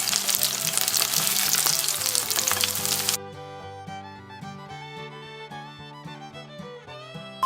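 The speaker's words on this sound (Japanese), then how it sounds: "加熱する際えのき水分多いので油跳ね気をつけながら加熱してください" Enoki mushrooms wrapped in nori fry in hot oil with a steady, close sizzle that is loud at first, then settles into quieter crackling over a soft background tone.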